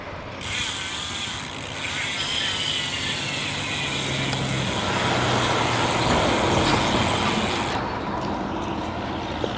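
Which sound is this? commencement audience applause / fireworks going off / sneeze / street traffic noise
street traffic noise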